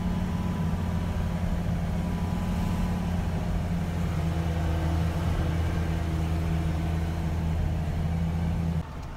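A U-Haul truck's engine hums in a low, steady drone while climbing a road, heard from inside the cab at moderate level, then cuts off abruptly near the end.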